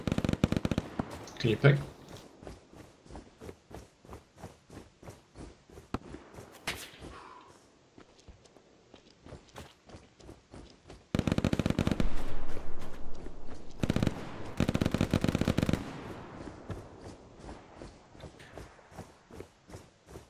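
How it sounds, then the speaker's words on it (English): An MG42 machine gun rattles out in Hell Let Loose, short staccato bursts of rapid fire that come in clusters, with long sustained strings of shots in the middle, while players talk over it. "That's an MG42."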